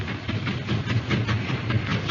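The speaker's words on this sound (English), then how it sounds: "So long, old train." An old train rattles and hisses continuously, a steady loud rumble with rhythmic clatter of the rail cars rolling along.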